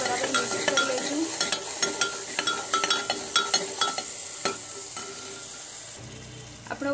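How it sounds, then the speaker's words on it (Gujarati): Spices stirred into hot oil tempering in a pan while cooking a drumstick curry with tomato gravy, with steady sizzling and frying under repeated scraping clinks of a spoon against the pan, close and fairly quiet. "બધો મસાલો આપણે બરાબર મિક્સ કરી લઈશું."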